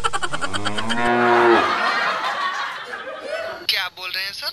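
A long, drawn-out moo from a buffalo, most likely imitated by a human voice, sounds up close for about a second and a half and then fades into laughter and chuckling.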